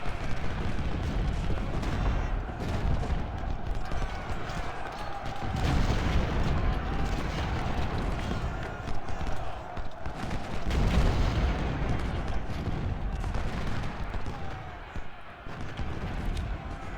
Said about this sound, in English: There is my artillery pieces. Napoleon cannons.